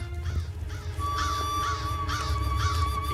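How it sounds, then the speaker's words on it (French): A gathering of crows caws over and over in a steady rhythm of harsh calls, set against a sustained musical drone in a French-dubbed cartoon. "C'est bizarre, tous ces corbeaux réunis."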